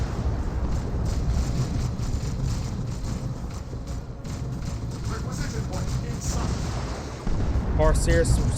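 Battle sounds from the Dawn of War 2 strategy game, in a match of the Elite Mod, form a dense, steady rumble of gunfire and explosions with a louder burst near the end, while a commentator talks over it.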